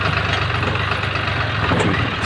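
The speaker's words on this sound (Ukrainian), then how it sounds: "Трактор цілком керований" Chinese tractor engine hauling a rotary mower up a steep, rough off-road slope in second gear, a steady, loud, close diesel drone.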